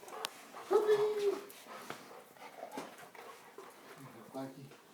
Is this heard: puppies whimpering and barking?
yes